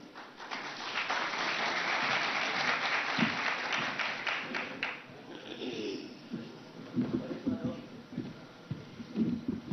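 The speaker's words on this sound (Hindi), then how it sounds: "जोरदार तालियों से उनका स्वागत कीजिए" Audience applause for guests welcomed onto the stage at a televised political event, a dense steady clapping for about five seconds that thins out, followed by murmuring and scattered voices.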